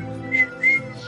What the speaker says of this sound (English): Stop whistling, whoever's whistling.